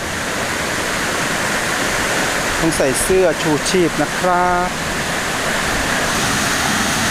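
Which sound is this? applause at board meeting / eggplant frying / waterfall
waterfall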